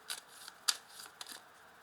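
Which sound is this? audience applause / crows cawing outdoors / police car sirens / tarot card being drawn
tarot card being drawn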